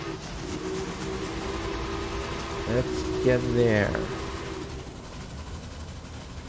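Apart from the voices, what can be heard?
train whistle and locomotive starting in Railway Empire video game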